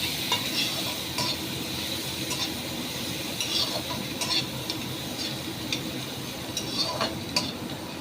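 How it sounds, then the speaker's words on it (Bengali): Onions fry gently over very low heat for a coconut mutton curry, a soft, steady sizzle with occasional light ticks and scrapes of a utensil, close and without voices. "একটু পেঁয়াজ দিলাম পেঁয়াজটাকে একটু এর সাথে একদম কম আঁচেতে হ্যাঁ ভাজছি পেঁয়াজটা ভাজা ভাজা হবে"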